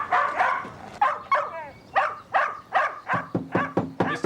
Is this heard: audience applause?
no